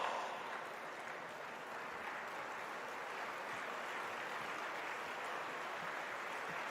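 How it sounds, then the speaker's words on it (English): An audience at a national felicitation ceremony claps in a steady, dense wash of applause that holds evenly throughout and sounds somewhat distant and washed out, with no clear voices. "And let's give him a standing ovation, a big round of applause."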